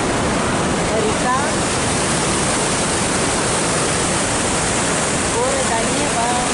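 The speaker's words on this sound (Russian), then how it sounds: "Река." A river rushes through the mountains near Machu Picchu, Peru, as a loud, constant broadband roar of flowing water that fills the whole clip, with faint voice traces briefly audible over it.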